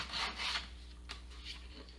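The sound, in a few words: sanding a wooden sanding block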